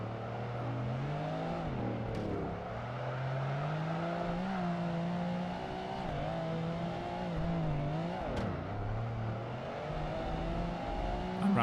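Porsche 911 GT1 race car in Project Gotham Racing 2, its engine droning steadily and rising and falling through gear changes as it laps, loud and continuous with no talk over it.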